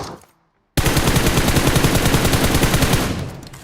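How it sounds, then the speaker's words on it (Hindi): Rapid automatic gunfire in the BGMI battle royale video game, a loud, close, continuous burst of evenly spaced shots lasting nearly three seconds after a brief silence, then tapering off. "सामने की साइड से फायर आया"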